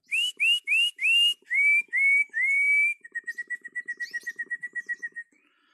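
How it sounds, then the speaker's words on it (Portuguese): Someone whistles a call to lure a Belgian canary back: a series of rising whistled notes, then a fast run of short repeated tweets, close and clear with no talk. "Chama assovio para o belga."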